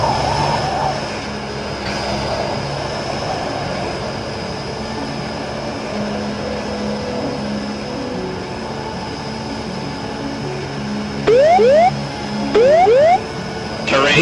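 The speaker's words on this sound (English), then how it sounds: "During the flight, the plane experienced a lot of turbulence." An airplane flying through turbulence in the BeamNG Drive video game, a loud steady engine drone with rising whistling tones near the end.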